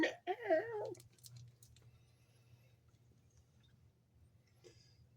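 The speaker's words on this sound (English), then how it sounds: "That's as loud as he meows, too." A single short meow from a cat near the start, then a faint low hum and near silence.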